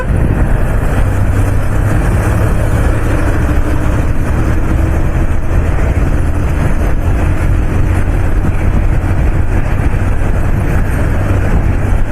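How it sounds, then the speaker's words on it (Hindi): Motorbike engine running while riding on a city road, a loud steady low drone with constant wind and road rumble and no speech. "मस्त साउंड था गाड़ी का"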